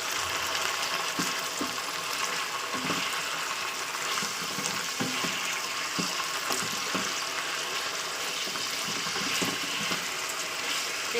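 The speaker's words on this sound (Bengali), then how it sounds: "আমি জাস্ট তেলের উপরে মাংসটাকে ভাজা করে নিচ্ছি।" Chicken pieces frying in oil in a kadai, a steady broadband sizzle with faint scraping and clicks throughout, no voices.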